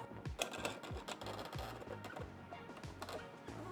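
Developing film being spooled onto a reel inside a Lab-Box tank, heard as a steady run of quiet, rhythmic ratcheting clicks, evenly spaced and faint.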